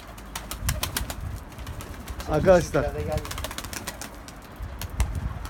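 Pigeons in a Turkish fancier's loft cooing softly with bursts of wing flapping, close by, over a continuous low murmur, while someone speaks briefly.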